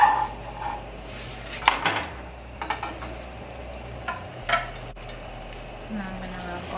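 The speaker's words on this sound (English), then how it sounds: "I'm gonna put the roti on the tawa." A roti is laid on a hot tawa and cooks with a soft, steady hiss, broken by a few close clinks and thumps of utensils, with no talk.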